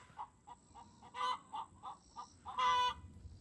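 Hen in a backyard chicken coop squawking loudly while laying an egg, a series of sharp rhythmic clucks building to two longer, louder cackling bursts, close and alone.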